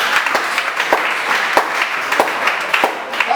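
A church congregation claps during a sermon, a steady close wash of many hands with sharper individual claps popping out of the texture.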